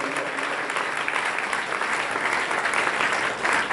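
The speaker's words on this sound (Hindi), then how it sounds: "मैं चाहूंगा बहुत जोरदार तालियों से आप उनका अभिनंदन करें।" An audience at an award ceremony for a satsang grand finale applauds loudly, a dense, sustained wash of clapping that stays strong from start to finish with no pause.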